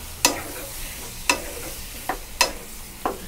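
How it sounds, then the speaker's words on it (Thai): Squid stir-fried in oil over high heat: a handful of quick spatula scrapes against the pan at uneven intervals over a low, steady sizzle, close and with no talking. "ผัดกับน้ำมัน ไฟแรงเท่านั้นครับเร่งไฟขึ้นแรงเลย"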